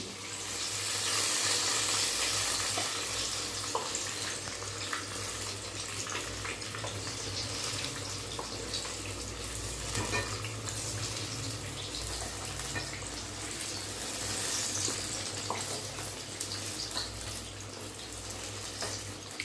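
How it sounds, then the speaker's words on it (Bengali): Eggplant slices frying in a pan give a steady, hissing sizzle that holds at an even level throughout, close and continuous, with no talking over it. "এখনও কিচ্ছু হয়নি, বেগুন ভাজা দিয়ে এত সুন্দর গন্ধ ছাড়ছে।"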